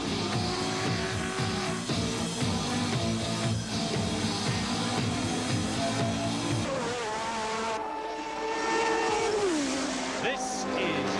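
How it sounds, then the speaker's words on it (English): Group A touring cars race at the 1986 Adelaide Grand Prix, their engines roaring steadily and shifting in pitch as they slide through corners, while a commentator talks over the racing. "I see Peter sliding the car a lot. He's getting maximum traction through those corners"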